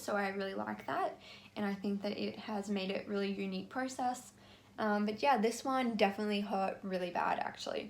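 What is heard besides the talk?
No distinct noise like a dog, phone or traffic.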